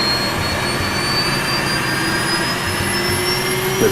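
Jet engines of the Air Florida Boeing 737 throttle up toward takeoff power, a loud steady roar with rising whining tones climbing over several seconds.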